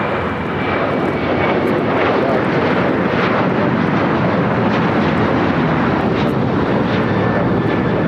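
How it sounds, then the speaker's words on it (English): A Delta Airlines Boeing 737-900ER takes off at LAX for Miami, its jet engines a heavy, continuous roar that swells early and then stays loud and close. "This is Delta Airlines Flight 811 taking off to Miami, Florida on the 737-900ER."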